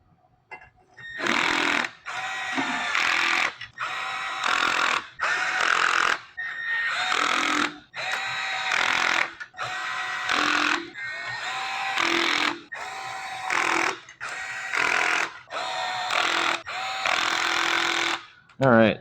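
Impact gun running down cylinder head bolts on a Cummins 5.9 engine, a series of loud bursts of hammering rattle, each lasting about a second, separated by short pauses.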